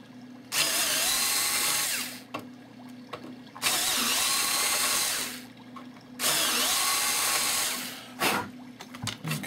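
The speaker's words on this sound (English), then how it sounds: "first we got to drill our holes out" A power drill whirs in three long bursts separated by brief pauses, loud and close, enlarging holes in a Phoenix Models Sukhoi Su-31 model aircraft, with short clicks and a quick final spin.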